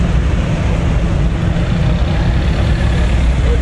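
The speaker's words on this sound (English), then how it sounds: "Give you an idea of the traffic that's coming in" Heavy traffic rolls into a hot rod run in Pigeon Forge, Tennessee, heading south on North 66: a steady, close rumble of car and truck engines idling and creeping along, with no break for the whole stretch.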